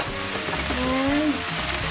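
Water spinach stir-fries in a hot pan, a dense close sizzle under a brief voice, with a short rising squeak-like tone midway as it is tossed.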